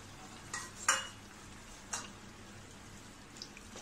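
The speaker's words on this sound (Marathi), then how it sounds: "व्यवस्थित ढवळून घेऊया" A spoon stirring cooked peas and paneer in a pan, giving a few soft scraping clinks spaced about a second apart over a faint steady background hiss, quiet and close with no voices.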